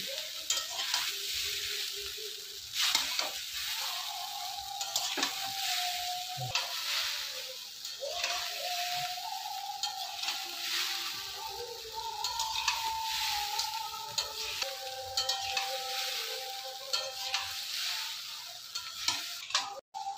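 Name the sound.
stir-frying chow mein with spices in a pan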